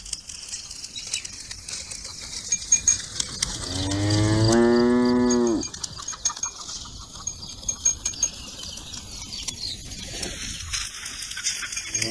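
A single long, low moo from a water buffalo rises over steady outdoor background noise, lasting a couple of seconds.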